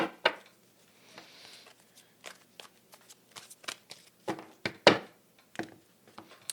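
Soft, irregular riffling and slapping of tarot cards being shuffled by hand, close up, with uneven bursts and brief pauses, no talking.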